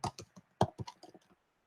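A short, quick burst of keystrokes on a computer keyboard, with about a dozen crisp, close clicks in an uneven rhythm that trail off, and no other sound.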